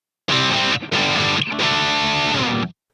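Electric guitar lead tone through a Headrush Gigboard amp preset, loud distorted sustained notes played in about three phrases with brief gaps, alone, then ending in silence.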